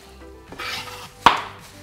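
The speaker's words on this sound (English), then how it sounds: "Give them a little chop." A knife chops once through stacked, rolled-up grilled balsamic vegetables on a board, a single sharp near thud after a soft shuffle.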